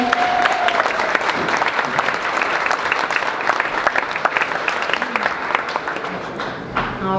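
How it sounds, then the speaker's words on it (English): Wedding guests at a reception break into sustained applause, a thick continuous wash of clapping lasting about seven seconds that tapers slightly at the end. "If we could give everybody a round of applause"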